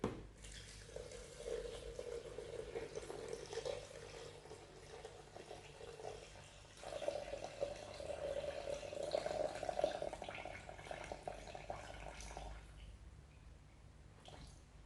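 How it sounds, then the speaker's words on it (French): Water, about 600 g, pours steadily into a jambalaya pot of chicken and shrimp, a quiet continuous trickling stream that swells midway and stops near the end. "je vais rajouter donc 600 g d'eau"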